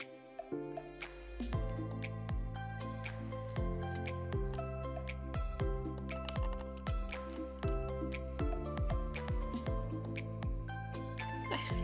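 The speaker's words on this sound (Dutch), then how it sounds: "Dat is gewoon een kraan. Of een douchekraan." A water tap or shower tap in a house drips steadily, giving close, crisp plinks at an uneven pace against a quiet room.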